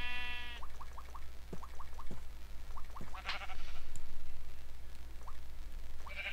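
Sheep in the Minecraft video game bleat in a quick run of short, wavering calls, then a few more scattered bleats over soft in-game sounds and low background hum.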